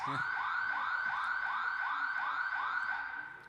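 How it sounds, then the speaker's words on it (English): During an indoor hockey match at the Indoor Africa Cup, an electronic timer signal marks a penalty corner. A loud, siren-like tone repeats in about eight quick rising whoops and sounds steadily throughout, with no talk over it. "That was just the timer for the for the penalty corner, and Jess O'Connor."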